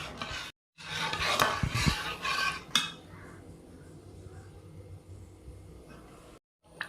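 Salt being stirred into ginger tamarind curry in a pan, a couple of seconds of close scraping and clinking of a spoon against the pan, then a soft, quieter simmer with brief silent gaps.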